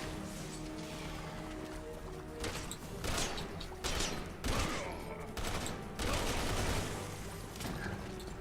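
Sniper rifle shots fired in the video game Resident Evil 6, a few sharp reports over a dense bed of game noise and effects, moderately loud.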